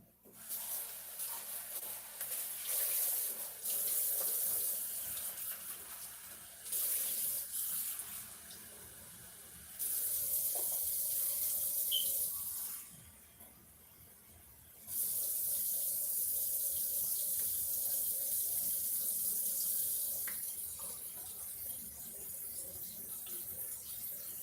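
Tap water gushing into a sink to top up cooking rice, loud running bursts that start and stop several times with brief quieter gaps between.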